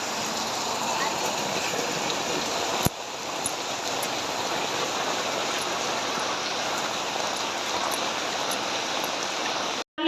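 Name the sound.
rain falling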